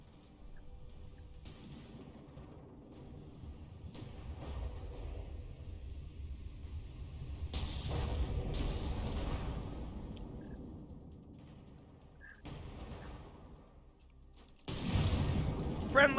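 Friendly gunfire in the From The Depths tank battle game comes in several sharp, heavy bursts, clustered about a second apart and then again near the end, over a constant low rumble of engine and battle noise.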